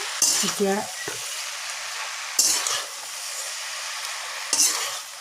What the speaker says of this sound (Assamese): এতিয়া অলপমান এইখিনি শাকখিনি মই ভালদৰে লৰাই পেলাই ইয়াতে লৰাই দিছোঁ